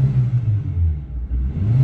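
A Proton car with a 1.5 litre Mitsubishi engine idles steadily, a low continuous rumble close by with slight wavering, alone with no talk.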